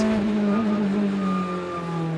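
Corvette and Lamborghini race cars at an IMSA endurance race roar past with a loud, sustained engine drone whose pitch sags slightly as they go by, without any talk.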